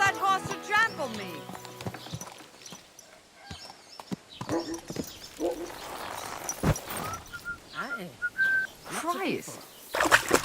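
Hooves clip-clop rhythmically as a horse moves in the medieval video game Kingdom Come: Deliverance 2. Shouting and talk sit over the hoofbeats, along with a few other game sounds.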